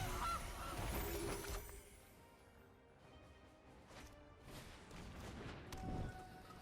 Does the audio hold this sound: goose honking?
yes